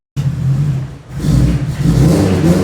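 A car engine with a new exhaust starts after a moment of silence, idles with a deep rumble, then revs up loudly and holds a throaty, steady roar.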